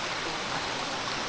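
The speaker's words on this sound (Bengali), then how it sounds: "এই তোমরা দেখতে পাচ্ছ রেলি নদী, সুন্দর জলের আওয়াজ" The Reli river near Kalimpong rushing past, a dense, steady broadband roar of flowing water heard close and alone for a brief moment.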